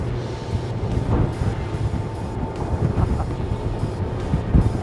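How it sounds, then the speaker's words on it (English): A Scanner Envy 1400 motorboat banks through a turn at full throttle at about 41 knots, its engine a steady loud roar under heavy wind and water rush, with no break from start to end. "Let's try a little turn, full throttle."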